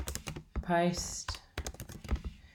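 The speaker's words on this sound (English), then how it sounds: "Then you can just start typing and just type or paste in from Word or something." A computer keyboard typed on in scattered clacking keystrokes, close by, heard under and between a person's speech.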